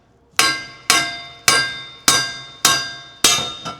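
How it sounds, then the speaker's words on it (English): Six sharp metallic hammer taps strike the back of a prop puller on a wake boat propeller, evenly spaced about half a second apart, each ringing briefly and loud and close with no voices. "You just want to give it a nice tap right on the back of your prop puller without hitting anything else."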